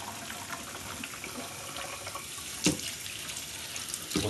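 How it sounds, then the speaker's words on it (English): Cold water pours steadily into a repaired ice luge, its crack freshly resealed, a continuous close splashing trickle with a couple of sharper spills near the end. "Add a little cold water."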